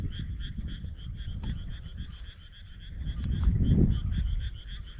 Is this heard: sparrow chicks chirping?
no